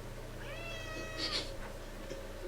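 A cat lets out a single drawn-out meow, rising then falling, followed by a short softer call, heard fairly close over a low steady background hum.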